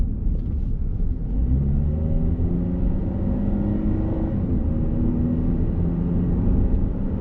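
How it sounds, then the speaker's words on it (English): A 2010 Ford Escape XLT with its 4-cylinder engine drives along, giving a steady, loud, low rumble of engine and road noise heard from inside the cabin. There is no speech. "It sounds really good for a 4-cylinder."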